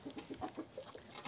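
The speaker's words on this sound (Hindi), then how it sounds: "और देखो मेरे पास आके रुक गया मुर्गा" Rooster clucking up close outdoors, a quick run of short rhythmic clucks over about a second, fairly faint with no voices.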